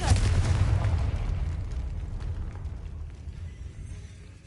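A Confringo blasting spell detonates in the Hogwarts Legacy video game, a single loud low boom at the start that rumbles and slowly decays over several seconds inside a decayed stone catacomb, with no talking.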